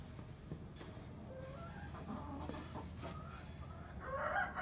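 Broody hens cluck softly in the background while dust-bathing, among low outdoor noise, a few murmuring calls growing a little louder at the end.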